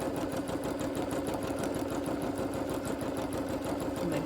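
A sewing machine free motion quilts a curly design, its needle chattering in a fast, steady, continuous run at close range with no talking.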